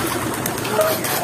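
A pigeon cooing softly at a loft, a short low coo over faint background rustle.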